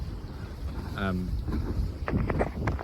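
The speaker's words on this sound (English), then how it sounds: "Sailing right now because I'm making good enough speed." A sailboat sails under way with steady wind and water rush against the hull, loud wind buffeting the microphone and brief creaks and knocks from the boat, with a voice briefly present.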